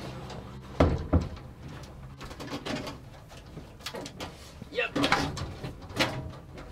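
A large caravan wardrobe's double doors are opened, giving a few sharp knocks and clicks near the start, then quieter rustling and handling sounds close by.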